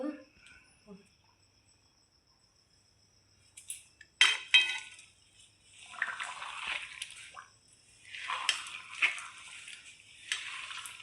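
Grated coconut being stirred into a sweet gundar pak mixture in a pan, with soft intermittent scraping and light clinks of a spoon against metal in an otherwise quiet kitchen.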